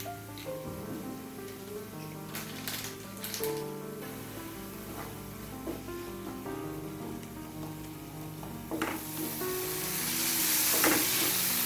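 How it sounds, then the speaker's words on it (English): Cumin seed and ginger paste sizzling in oil in a frying pan, a steady crackling hiss that runs throughout with occasional stirring sounds and swells louder toward the end. "Now I am going to add that cumin seed and ginger paste."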